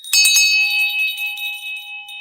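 A bright bell rings twice in quick succession, then its clear metallic tone hangs and slowly fades over the next two seconds.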